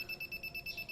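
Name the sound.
social distancing detector alarm sounding when someone is too close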